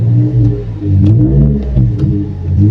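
A taxi car's engine revved hard in repeated bursts, loud and close, rising and falling with a rough mechanical growl and no voices over it.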